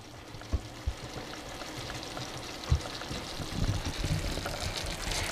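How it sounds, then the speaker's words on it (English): A pot of food simmers with a soft, continuous bubbling and gentle liquid burble, faint and close, broken by a few quiet knocks and clinks. "So now we got that to a simmer."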